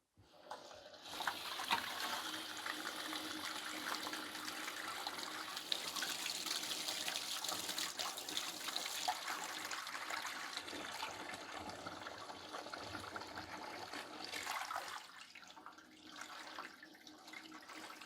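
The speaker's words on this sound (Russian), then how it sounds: "Ну, теперь давайте посмотрим, как у меня происходит теперь слив воды." Water gushes under high pressure and drains through a sink siphon fitted without a corrugated hose, a steady loud rushing and gurgling that runs for many seconds before easing off near the end.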